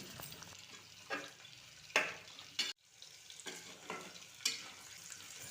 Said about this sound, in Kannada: ಈ ಮೆಣಸಿನ್ಕಾಯಿನೂ ಎಣ್ಣೆಗೆ ಚೆಂದಾಗೆ ಫ್ರೈ ಮಾಡ್ಕೋಬೇಕ್ರಿ